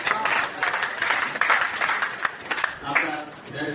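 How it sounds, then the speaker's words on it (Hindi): An audience claps at a Holi gathering poetry recital held by a Rotary club in Lucknow, a dense, steady burst of applause filling the room for a few seconds. "तो उस धैर्य के लिए ताली बजाइए अपने आप के लिए।"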